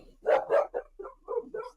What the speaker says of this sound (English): sorry, one of my dogs.